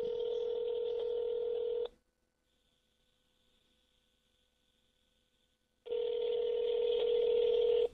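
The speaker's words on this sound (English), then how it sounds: "Let me call Rashad." A phone call is being placed, heard as a steady ringing tone on the line: two long, even beeps separated by a few seconds of near-silence, with no one talking.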